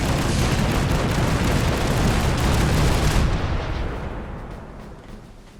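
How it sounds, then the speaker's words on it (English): A full volley from every cannon on a ship in Fallout 4, with a dense, roaring wall of booming blasts that holds for about three seconds and then rumbles away. "On the boat, there are a few triggers that you can press to fire every single cannon on the ship"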